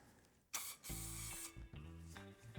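A can of gun cleaner sprays on 1911 pistol parts in several hissing bursts, one sharp blast then longer sustained sprays with brief pauses between them, close and loud.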